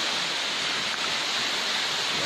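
Sing Sing waterfall pours in a steady, full roar of rushing water, close and continuous with no other sounds.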